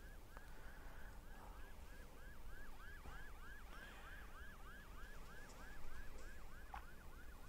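An ambulance carrying evacuated workers sounds its siren in a fast, repeating wail of rising sweeps. The siren is faint and distant, heard over steady outdoor background noise, and no one speaks.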